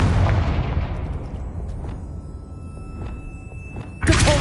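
A fiery Confringo spell blast in Hogwarts Legacy on PS5 lands as a booming, broad thud that slowly decays, with a second sharp burst near the end. No voices are heard.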